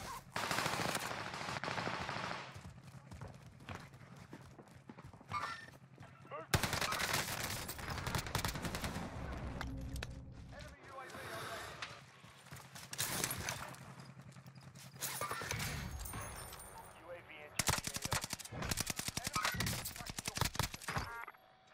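A submachine gun fires in the Warzone video game in rapid repeated bursts, loud and close, broken by short pauses and mixed with game action noise.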